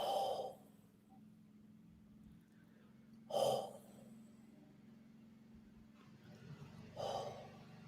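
Deep breaths exhaled slowly during a guided relaxation, three soft breathy whooshes spaced a few seconds apart, close but quiet over a low room hum.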